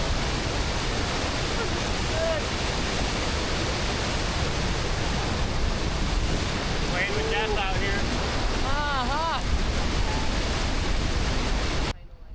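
Mooney Falls at Havasupai roars as a steady, dense rush of falling water heard close from the top of the falls, with faint calls or voices briefly rising above the roar before it cuts off abruptly.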